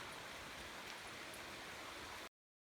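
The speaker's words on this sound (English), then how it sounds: "There's a waterfall." A waterfall on a scenic hiking trail gives a steady, loud, close rush of falling water that runs without a break and then cuts off abruptly near the end.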